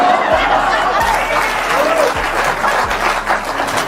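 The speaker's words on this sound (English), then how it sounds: "Terrible that you would applaud that." A crowd claps loudly and steadily, a dense wash of applause with a few low thumps, close and continuous for a few seconds.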